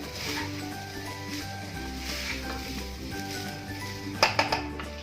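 Rice stirred in a pan over a low flame after sitting covered, giving a steady soft sizzle with light scraping movement and a few sharper clinks near the end.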